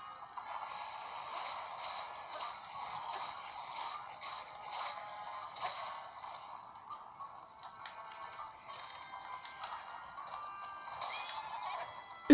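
A horse in the video game Zelda Breath of the Wild, the mount Epona, sounds with a rhythmic series of game-audio clip-clop hoofbeats and small effects, moderately loud, with no speech.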